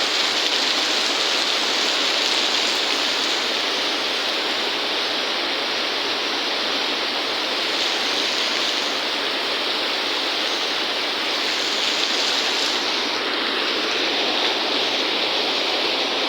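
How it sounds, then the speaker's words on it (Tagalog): Heavy rain pours down in a constant, dense hiss that holds evenly throughout with no voices. "Lakas na palakas ang ulan, no?"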